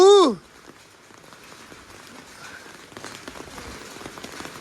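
A rain shower falls steadily, a soft even patter on nearby surfaces that builds slightly, preceded by a brief loud sliding tone at the very start; no clear talking.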